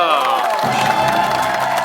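Studio audience on the Korean variety show Star King applauding and cheering, a dense loud crowd wash with whoops rising over steady clapping throughout.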